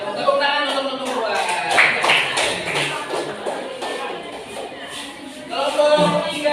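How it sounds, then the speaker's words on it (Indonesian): A classroom audience claps for a student group, a steady patter of hand claps with voices speaking over it. "Tepuk tangan untuk kelompok"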